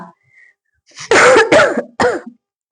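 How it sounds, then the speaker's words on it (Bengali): A person coughs three times in quick succession, loud and close, after a brief throat-clearing sound. "সরি কথা বললে মাঝে মাঝে কাশি হচ্ছে"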